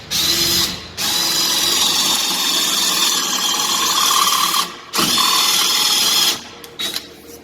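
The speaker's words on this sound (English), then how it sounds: "So you just watch that edge as you drill down to make sure you don't go through the top." Power drill with a speed bit boring into a wooden rake head, loud sustained whirring in long runs broken by brief pauses, close up with no talk.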